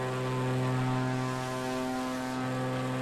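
Steady propeller drone of the Tailwind bush plane engine in a flight simulator, a constant layered hum with strong low harmonics, held evenly throughout with no talking.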